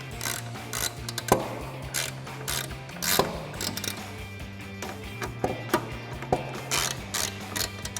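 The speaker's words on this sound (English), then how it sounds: "now we're gonna get our 4mm Allen socket and go ahead and tighten these down" Ratchet with a 4mm Allen socket tightening airbox bolts on a 2016-2022 Toyota Tacoma during a K&N Blackhawk cold air intake install; repeated quick clicking bursts of the pawl, close and clear, with no talking.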